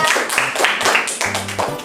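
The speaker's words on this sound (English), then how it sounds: "Give applause for Nabila." A classroom of high school students clapping for a classmate, brief scattered applause mixed with voices talking over it.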